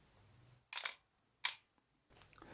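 Two crisp shutter releases of an analog film camera fitted with an I'm Back digital back, each a sharp mechanical snap-and-clack spaced under a second apart, close and clear with quiet room tone between.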